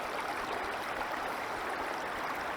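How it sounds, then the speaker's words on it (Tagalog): A river at a campsite in Tanay, Rizal flows with a steady, soft rush of water, continuous and even, heard alone without voices. "Narinig niyo ba guys yung ano ng ilog?"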